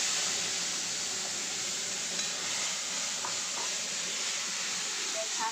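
Ground spice paste with turmeric and Kashmiri chilli powder hisses steadily in hot oil in a pan. The close, even sizzle runs throughout, with a few faint clicks on top.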